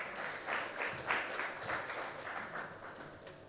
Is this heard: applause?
yes